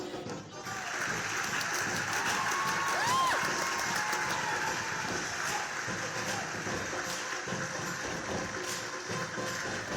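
A theatre audience at the Globe applauds steadily as the cast bows, a dense, sustained wash of clapping and cheering that stays loud throughout.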